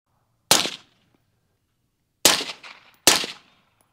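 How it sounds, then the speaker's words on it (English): Three firearm shots on an outdoor range, some suppressed and some unsuppressed, each a sharp isolated crack with a brief decaying tail, the first alone and the last two about a second apart. "when we were shooting this suppressed and unsuppressed on that chrono"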